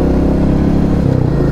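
Royal Enfield Meteor 350 motorcycle engine running close by, a steady low single-cylinder thump with a slight shift in pitch near the end, loud and continuous with no talking.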